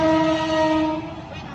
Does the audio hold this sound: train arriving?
yes